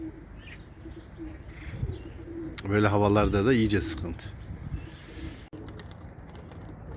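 Tumbler pigeons coo softly in the background, low murmuring calls partly buried beneath someone talking close by outdoors.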